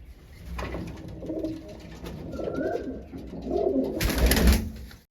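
Madras pigeons cooing softly in a close, quiet setting, several low throaty coos in a loose rhythm with a louder burst near the end.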